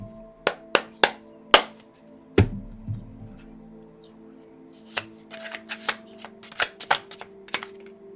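Kipper-style fortune-telling cards are shuffled and drawn by hand: a few crisp snaps and a thump, a pause, then a quick cluster of riffling clicks and taps. No talking.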